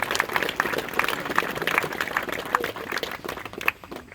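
A crowd at a 9/11 memorial ceremony in East Durham applauds, dense clapping sustained throughout at moderate distance before thinning out at the very end.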